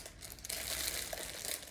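A plastic bag crinkles and rustles continuously as it is handled and filled with staticky craft material for a holiday DIY project, close and fairly soft, with no talk.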